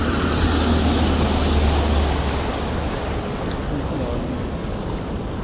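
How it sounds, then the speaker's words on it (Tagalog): Strong floodwater rushes through a flooded street on Taft Avenue in Manila, a loud, continuous broadband roar of moving water with a low rumble at first, heard close up without a break. "Lakas ng agos."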